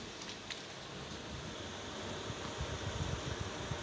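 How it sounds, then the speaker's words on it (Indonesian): The cooling fan of an Ashley VLP300 power amplifier whirs steadily at close range, a constant broadband hiss with no talk over it. "Ini bisa kalian lihat, ini ada suara kipas anginnya nanti."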